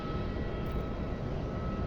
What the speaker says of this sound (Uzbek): 767 Boeing.